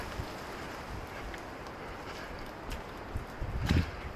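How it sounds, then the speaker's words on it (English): Wind blows in a soft, steady rush on a muddy ridge trail in Makiki Valley in the rain, with a faint low rumble and a slightly stronger gust near the end. "Oh, it's super windy over here."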